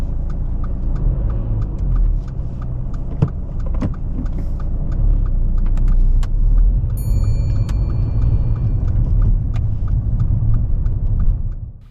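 A learner driver's car pulls away from a parked space, its engine rumble and road noise steady and fairly loud throughout, with a few faint clicks and jingles from inside the cabin.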